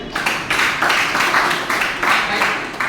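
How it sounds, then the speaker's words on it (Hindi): Enthusiastic audience applause at a Safe Shop Sunday venue plan presentation, a steady wash of hand claps swelling in a few waves across the whole moment, fairly close and loud. "राजू कुमार सर के लिए एक जोरदार तालियां होनी चाहिए"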